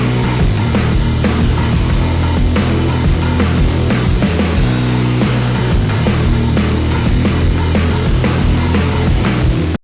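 A dense, loud grunge chorus with distorted drums, heavy guitars and constant crashing cymbals plays continuously at full volume for about ten seconds, with no talking.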